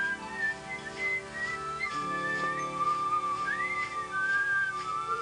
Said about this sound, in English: Never before had this nasty old guy leapt out of his bed with a smile in his eye and whistled hello to the birds in the sky.